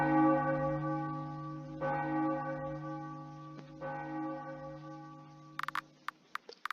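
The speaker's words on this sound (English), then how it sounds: "Three bells. That's odd." Three church-style bells ring out in the video game Trials of Guinevere, each a resonant toll with long sustained overtones spaced about two seconds apart. A few faint ticking clicks follow at the end.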